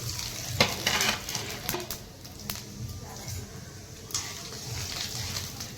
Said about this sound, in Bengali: তেল আমার গরম হয়ে গেছে আমি এই শুকনো লঙ্কা এই ফোড়ন দিয়ে দেবো